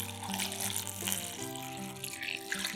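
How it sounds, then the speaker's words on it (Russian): Water poured into a bowl of tangerine peels with baking soda and stirred, a soft faint splashing and trickling over low steady background hum. "Заливаем водой и немного перемешиваем."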